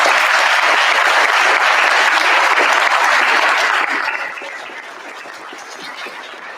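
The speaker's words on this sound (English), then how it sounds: "please join me once more in applause for our new National Junior Honor Society members" An audience at a National Junior Honor Society induction ceremony applauds loudly and steadily for several seconds, then the clapping thins out and fades to a lighter patter.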